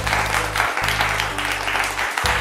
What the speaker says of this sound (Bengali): টিম এর জন্য একটা জোরে হাততালি হয়ে যাক